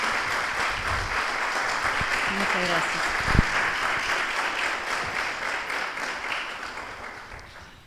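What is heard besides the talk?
audience applause for a filmmaker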